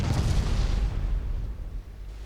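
Torpedoes strike ships in a 1956 naval warfare game, producing a deep, rumbling explosion that starts loud, booms heavily in the low end and slowly fades away over about two seconds.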